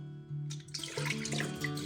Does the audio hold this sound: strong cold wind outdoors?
no